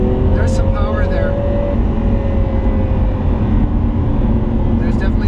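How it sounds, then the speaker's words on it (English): Lamborghini Aventador engine pulling hard through rising revs, a loud continuous drone with a steadily climbing tone, under a voice talking over it. "Man, does it pull beautifully. There's some power there."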